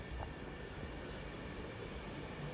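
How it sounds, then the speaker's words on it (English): A diesel multiple-unit train, class 390, runs into a quiet station platform in North Staffordshire with a steady, fairly faint low rumble and no voices. "here is my train"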